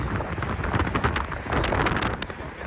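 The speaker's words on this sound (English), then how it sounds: "Well, that wind." Wind buffets the microphone on an outdoor ring walk from Atherton to Farnworth, a loud, continuous low rumble with gusty surges that swamps everything else, and no one speaks.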